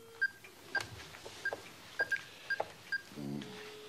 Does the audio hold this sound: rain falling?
no